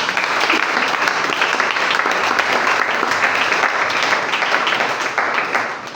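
A church congregation breaks into loud, sustained applause for the Lord, steady dense clapping from a large crowd that holds for several seconds and eases off slightly at the end.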